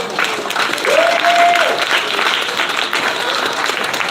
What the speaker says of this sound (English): round of applause for the squad